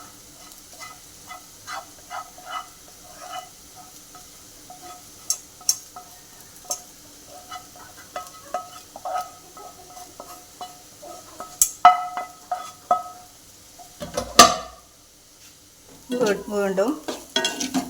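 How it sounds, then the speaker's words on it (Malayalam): Fish pieces being stirred and fried in hot oil for a fish pickle, with scattered scraping taps of a spoon against the pan over a low sizzle, growing busier toward the end. "നന്നായി ഇളക്കി കൊടുക്കുക."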